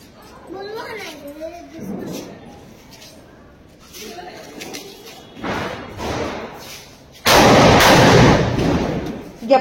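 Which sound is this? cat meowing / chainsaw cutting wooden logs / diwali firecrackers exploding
diwali firecrackers exploding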